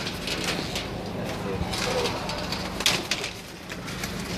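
Grey pigeons coo softly in a loft amid a busy, noisy background, their low murmuring calls partly masked while people talk nearby.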